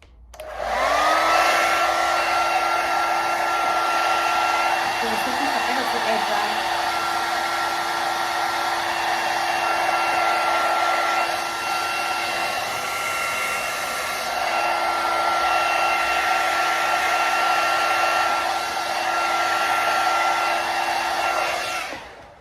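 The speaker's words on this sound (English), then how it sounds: "So I am just going to hair dry the lace right now." A hair dryer blows on a lace frontal wig, switching on with a rising whine and then running loud and steady in a continuous whirring drone for over twenty seconds before cutting off.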